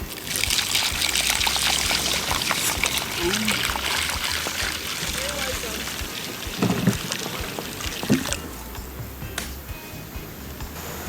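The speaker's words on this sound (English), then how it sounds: "I have a little thing here of Omnicorn, so I'll go put it into my bowl really quick so it can soak" Omnicorn grains are poured into a calabash bowl to soak at a Jamaican campsite, giving a close, gritty trickling patter that runs on and off beneath people talking.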